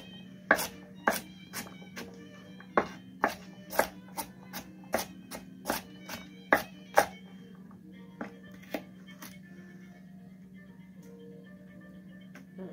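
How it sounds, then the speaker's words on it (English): A knife chops garlic on a board in a kitchen: about a dozen sharp, crisp knocks fall at a fairly even pace, then thin out to a few sparse taps near the end, close and clear. "I'm going to chop up the garlic."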